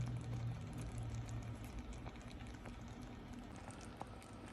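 Strawberry simple syrup simmers in a pot, giving a faint, steady bubbling hiss with scattered small pops throughout and no voices.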